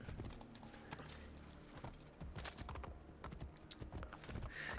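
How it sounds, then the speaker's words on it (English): Hooves of a summoned horse in a Borgia-era Rome video game clip-clop in a quick galloping rhythm, moderately loud against busy ambient game noise. "you can call the horse. Let me call a horse"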